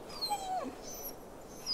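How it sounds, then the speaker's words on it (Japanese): A black wolf cub whimpers in the video game Blanc, with a few thin, high, falling whines that are quiet and gentle and carry no talk. "クンクン泣いてる"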